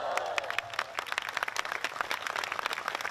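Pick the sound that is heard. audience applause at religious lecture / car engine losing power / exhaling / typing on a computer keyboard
audience applause at religious lecture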